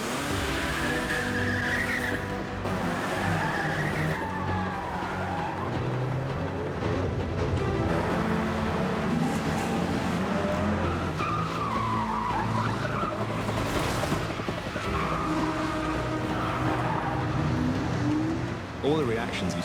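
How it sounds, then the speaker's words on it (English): Car spinning through repeated handbrake turns, tires squealing and skidding in long swoops over a busy engine roar, with voices talking throughout. "we are spinning around doing handbrake turns"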